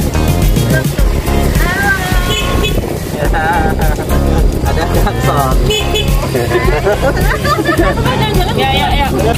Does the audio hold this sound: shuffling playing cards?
no